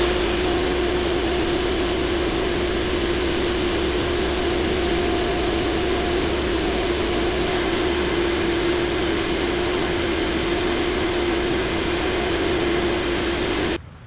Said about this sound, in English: So I've converted it from drill press mode to spindle sander mode.